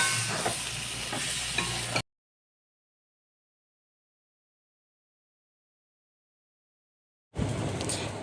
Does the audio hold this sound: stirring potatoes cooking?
yes